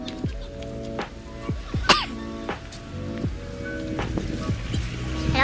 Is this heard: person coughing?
yes